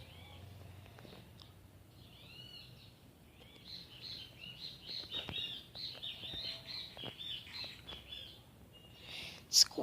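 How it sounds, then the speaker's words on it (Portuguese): Small bird chirping in Minecraft Pocket Edition: quick, high chirps repeat irregularly over a quiet background and grow a little busier toward the end. "Desculpa aí, mas é um passarinho"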